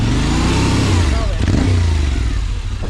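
A heavy motorcycle loaded with luggage rumbles along an old, long-unused swampy trail, its engine loud and close with uneven revving as it labors over rough ground, wind noise and speech mixed in.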